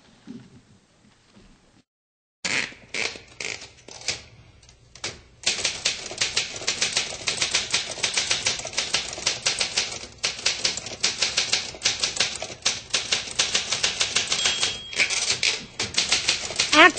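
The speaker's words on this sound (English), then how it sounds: "the hollow sound of a manual typewriter, the rhythmic clacking of the keys" A manual typewriter's keys clack in quick, uneven bursts, close and clear, first sparse and then a dense, steady run of strikes with no talk over it.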